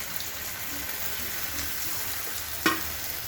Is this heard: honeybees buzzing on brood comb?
no